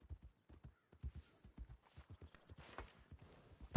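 Horse hooves in the video game Red Dead Redemption 2 clip-clop in a steady, quick walking rhythm on a hard surface, close and clear, with a faint breathy snort near the end.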